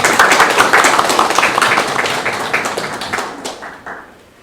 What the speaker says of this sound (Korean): 여기서 박수를 한번 쳐야 될 것 같습니다